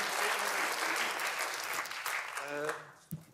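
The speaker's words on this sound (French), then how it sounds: "sous vos applaudissements" Audience applause at the Magritte du Premier Film awards ceremony, a sustained wash of clapping filling the room that tapers off near the end as a voice begins to speak.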